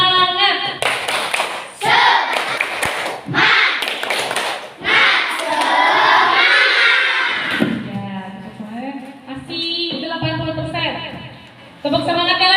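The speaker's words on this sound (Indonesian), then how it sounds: "Ayo kita tepuk semangat dulu" Children perform the tepuk semangat clapping chant in a classroom, mixing rhythmic sharp claps with loud shouted chanting voices in bursts, and a pause before the next round.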